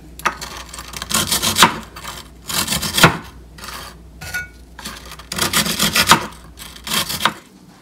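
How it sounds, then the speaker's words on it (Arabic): Repeated rough back-and-forth rasping of a knife sawing through dry, crumbly ladyfinger biscuits, in short bursts with brief pauses, close up. "نحاولوا نقطعوهم على 3 بشي موس بحال المنشار على هذا الشكل"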